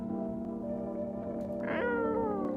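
A creepy-looking cat in the video game No I'm Not A Human gives a single drawn-out meow with a falling pitch, heard over a steady tonal music bed.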